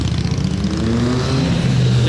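A Ferrari SP2 engine revs loudly nearby in Monaco, its pitch rising and holding in a steady roar, with crowd chatter mixed underneath.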